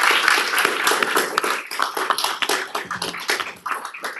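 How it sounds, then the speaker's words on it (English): Scattered clapping from attendees at a city council meeting honoring new youth commissioners, uneven and close, thinning out toward the end. "another round of applause."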